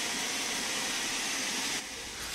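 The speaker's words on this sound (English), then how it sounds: "There's a few safety valves on top of the boiler that blow off and release extra steam at that point." Safety valves on top of a steam locomotive boiler blowing off in Train Sim World 2, a continuous broad loud hiss of escaping steam that dips slightly near the end.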